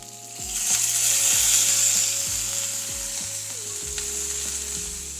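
Green chilies and coriander fry in a pan for coconut chutney, a steady hiss and sizzle with occasional stirring clinks and a humming tone underneath.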